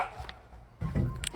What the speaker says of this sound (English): Stop barking at people.